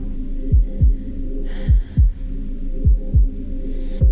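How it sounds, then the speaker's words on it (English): A slow, monotonous heartbeat opens a song, with deep low thumps in loose pairs repeating at an even pace over a soft sustained hum. "It's just this really slow, monotonous heartbeat that's about to run out."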